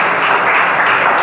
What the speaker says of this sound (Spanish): ¿Qué tal si lo acompañamos con un buen aplauso?